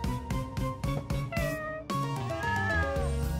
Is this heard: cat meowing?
yes